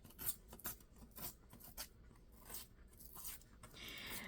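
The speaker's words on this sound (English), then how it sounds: "I'm just going to kind of trim them up just a little bit" Scissors snip and trim small craft items in a quiet room, a series of close, faint, irregular cuts with soft rustling between them.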